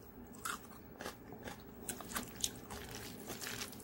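Close, quiet crunching and biting of a fresh autumn radish salad dressed in ground apple and onion sauce, with crisp irregular bites and chewing alone throughout.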